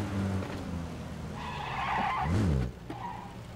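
A car in the PUBG video game drives and then skids with a sharp tire squeal that swells for about a second before the engine sound drops away abruptly, moderately loud with no talk.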